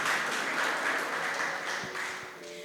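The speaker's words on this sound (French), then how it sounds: "Dr Lassana Thioté, que je vous prie d'accueillir par des applaudissements, s'il vous plaît" Audience applause at a televised ceremony, a steady wash of clapping from a crowd that fades slightly toward the end, with no voices over it.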